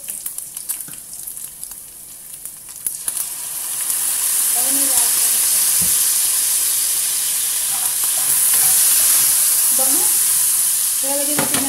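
Water spinach (kangkong) dropped into hot oil in a pan, starting with a few clatters and then a loud, steady sizzle of stir-frying. A voice speaks briefly underneath.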